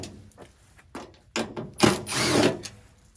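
A power drill backs screws out of a Ford Maverick modular bedliner, with short whirring bursts followed by a longer, louder run, close up and with no talk.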